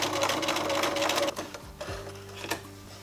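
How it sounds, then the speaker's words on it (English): A sewing machine stitches elastic onto trousers, running in a steady loud whirring burst for over a second, then stopping and restarting in short spurts with clicks and pauses. "I'm gonna let the machine do the work and pull it through."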